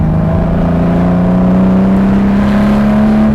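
The engine of a Lamborghini Jarama revs to 4,000 RPM from inside the car, giving a loud, steady drone that climbs slightly in pitch and carries no speech.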